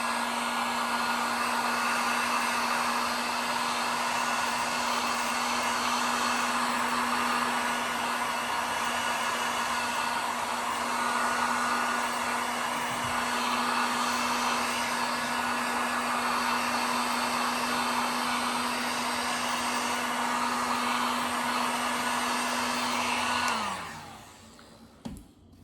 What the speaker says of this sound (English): Once more with the heat gun.